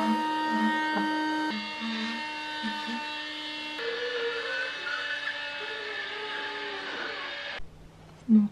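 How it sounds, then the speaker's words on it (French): A Cecotec window vacuum cleaner runs steadily on wet window glass, a continuous whining motor hum with a shifting tone as it moves, cutting off near the end; a voice speaks briefly over it. "Donc je vais prendre l'aspirateur, donc j'appuie"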